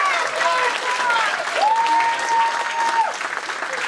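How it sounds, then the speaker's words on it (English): An audience at a gala breaks into steady applause that carries on for several seconds. A voice speaks over it, and a sustained tone rises partway through. "Ladies and gentlemen, round of applause for Dan."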